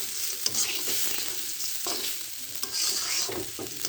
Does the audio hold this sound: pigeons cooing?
no